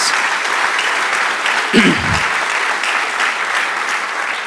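Steady, full applause from a debate audience at a cultural center continues for several seconds, with a brief low voice murmuring under it midway.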